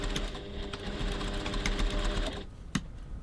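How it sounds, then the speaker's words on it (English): Domestic sewing machine stitching a 1 cm seam on a crossbody bag at stitch length 2.4, a steady close motor whir with fast needle rhythm for about two and a half seconds, then stopping, followed by a single sharp click. "Now I'm going to stitch this seam, 1 centimetre, 3/8 of an inch"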